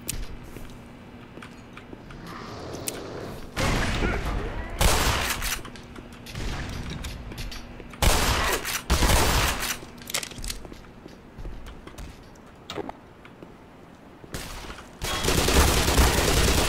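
Shotgun blasts ring out in a Black Mesa firefight, several heavy booming shots in irregular bursts with quieter stretches of movement and ambience between them.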